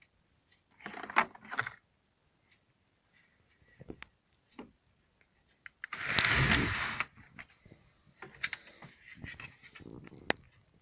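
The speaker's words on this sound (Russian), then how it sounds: "У нас тут выпало кое-что, вот такие вот биты." Metal screwdriver bits spill from an Ombra tool set case, producing scattered clicks and clinks followed by a louder rattling clatter, then more sparse taps as they settle.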